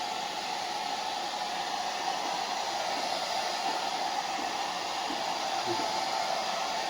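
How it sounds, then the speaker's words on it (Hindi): A hair dryer blows a steady, even hiss of air over a hair patch, running continuously at moderate volume with no pauses. "कूल ड्रायर करके ही लगाना है, ज़्यादा हॉट ड्रायर नहीं यूज़ करना है"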